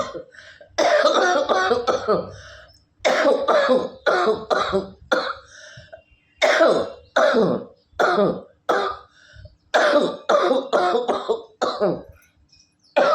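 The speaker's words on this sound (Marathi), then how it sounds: "नुसतं खोकून खोकून जॅब झालं" Repeated harsh coughing fits, bursts of several coughs separated by short pauses, close and loud, with some throat clearing.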